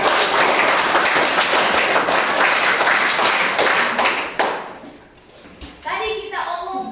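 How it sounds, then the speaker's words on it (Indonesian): Applause from a classroom of children after a prayer, dense clapping for about four seconds before it fades out, followed by a teacher speaking. "Tepuk tangan."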